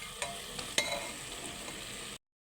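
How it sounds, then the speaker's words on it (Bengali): A spiced hilsa fish head sizzles as it is stir-fried with a little water in a pan. A steady hiss is broken by a few sharp stirring clacks before it cuts off abruptly. "অল্প পরিমাণে জল দিয়ে ভালো করে একটু কষে নিচ্ছি।"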